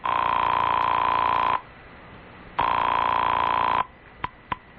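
An old landline telephone rings for an incoming call, two long electric bell bursts separated by a pause, then two short clicks as it is picked up.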